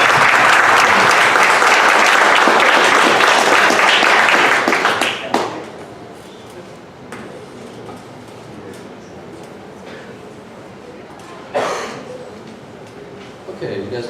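An audience at a Dallas startup pitch event gives a loud round of applause for about five seconds, which fades out, leaving a quiet room with a few scattered knocks and a voice speaking briefly.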